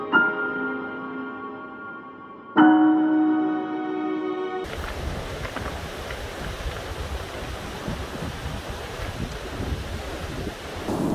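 Sea waves wash and break along the shore, heard from down at water level as a loud, continuous broadband roar with wind buffeting the microphone, preceded by a few seconds of sustained tonal sound.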